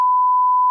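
A single loud, pure censor bleep holds one steady tone for under a second, alone with no voices.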